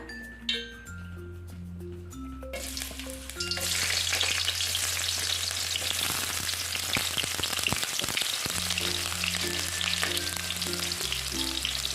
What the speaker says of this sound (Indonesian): Nah, minyaknya sudah panas. Kita tumis bawang merah.